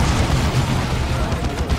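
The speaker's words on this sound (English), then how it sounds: "Oh, they threw a frag." A frag grenade blast in the Dawn of War campaign with the Ultimate Exterminatus mod, a dense low boom rolling under continuous battle noise and scattered gunfire for the whole stretch, loud and close.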